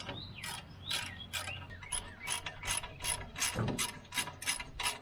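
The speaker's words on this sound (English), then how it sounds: "So we just gotta tighten these bolts down quick." A ratchet clicks in quick regular bursts while bolts are tightened down on a brush hog cover, about ten close, crisp ratcheting strokes with no talking.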